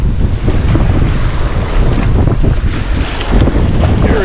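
Strong wind gusts buffet the microphone out on a lake during fall fishing from a boat, a loud, roaring rush with water slapping underneath and no speech.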